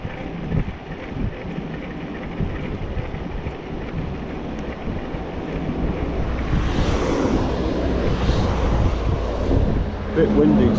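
Steady low rumbling wind buffeting a microphone outdoors, continuous and loud throughout, with gusts swelling toward the end.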